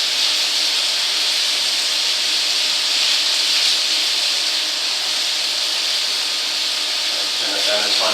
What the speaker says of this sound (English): you can see I'm just starting to char the onions a little bit.